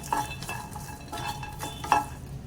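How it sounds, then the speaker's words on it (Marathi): Dry garlic roasts in a pan while a utensil scrapes and clinks against the metal in a few quick strokes over a faint, low sizzle. The sound is fairly quiet and has no speech. "ही लसूण पण काढून घेते आणि का चांगली भाजून घेते मी"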